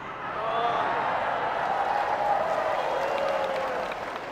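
A crowd at a political speech in Indonesia breaks into applause and cheering that swells and holds for a few seconds, a broad roar of clapping mixed with crowd voices.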